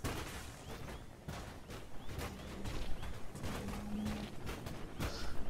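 Explosion in the Trailmakers video game, heard as a rapid string of sharp, crackling bursts that go off one after another for several seconds at moderate loudness.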